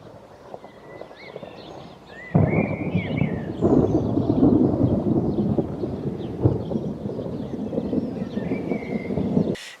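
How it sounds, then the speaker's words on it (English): A summer thunderstorm rumbles in, a low rolling roar of thunder swelling suddenly and sustaining for several seconds, heavy and fairly close, with faint rain and wind beneath. "A summer thunderstorm which I managed to film"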